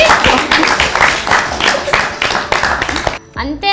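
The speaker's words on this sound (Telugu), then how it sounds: "బాగా క్లాప్స్ కొట్టండి." A studio audience on a Telugu television show claps and applauds, a dense run of handclaps that carries on for about three seconds and then cuts off abruptly.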